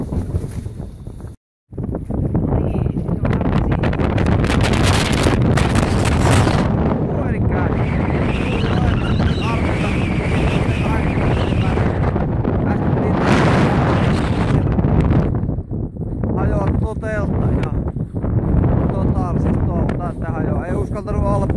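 Strong, gusty wind roars across an exposed spot in northern Norway, buffeting the microphone loudly and almost continuously, with a voice talking underneath.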